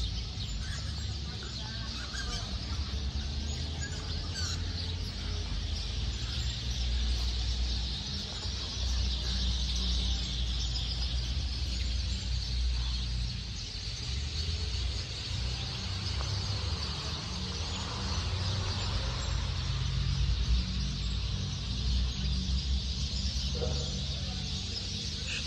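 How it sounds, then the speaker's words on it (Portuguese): Chickens and other birds call outdoors near a church in Taciba, São Paulo, a steady chorus of clucks and chirps over constant low rumbling background noise, with no talk. "Olha que lindo os pássaros. Barulho,"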